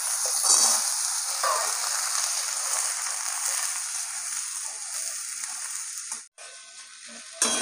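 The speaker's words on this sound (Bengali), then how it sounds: "এই মূলো আর আলুগুলো আগে দিয়ে দেবো, একটু তেলে ভেজে নেবো" Radish and potato pieces fry in oil in a wok, giving a steady close sizzle with light stirring scrapes before a brief break near the end.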